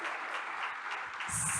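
Brief burst of audience applause at an opening event for Early Childhood Week, many hands clapping steadily at moderate volume for under two seconds.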